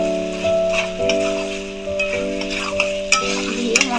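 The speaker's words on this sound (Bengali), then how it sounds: "দিয়ে মশলার সাথে পনিরটা একটু ভালো করে মিক্স করে নেব" Fried paneer pieces being stirred into sizzling masala in a pan, with repeated scraping and tapping strokes of a spoon over a low steady fry, close and without voices.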